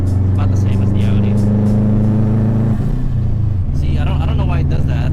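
2004 Subaru Impreza WRX with a PERRIN short-ram air intake, loud close engine drone that holds steady, then drops in pitch as the revs fall, followed by a brief rise with light turbo hiss and whooshing, under a speaking voice.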